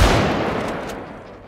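Gunfire in the zombie survival game Project Zomboid: a loud burst of shots at the start that trails off into a fading, noisy rumble, with no talk over it.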